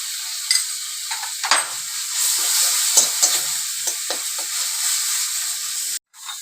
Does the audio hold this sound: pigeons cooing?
no